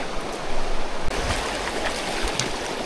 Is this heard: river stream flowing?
yes